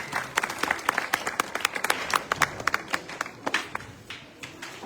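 Scattered outdoor applause from an audience at a Congress party election rally in Bhadra, Rajasthan, sparse individual claps rising and falling in uneven bursts rather than a dense roar, with faint crowd murmur beneath.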